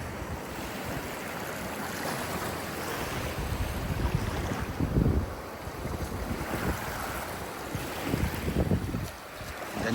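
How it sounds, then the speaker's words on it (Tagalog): A strong sea current and waves surge around a deserted island at rising tide, a continuous rushing wash with heavy wind buffeting the microphone and a few louder swells, with no talk. "Lakas na ng agos oh."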